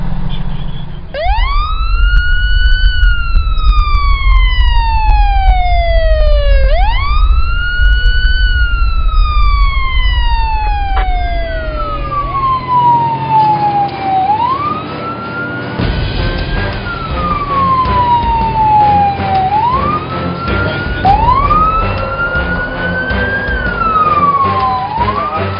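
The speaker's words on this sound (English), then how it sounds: "Fort Garry engine is out the bay door." Fire engine siren wailing as the Fort Garry engine leaves the bay door on a night call to an industrial fire near Edmonton Airport. The siren is loud and close and rises and falls repeatedly, with a deep engine rumble beneath it.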